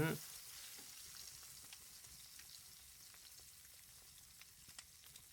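Pork belly sizzles in oil in an iron pan on a stove, a faint, steady frying hiss with small crackles scattered throughout, following a brief clatter at the start.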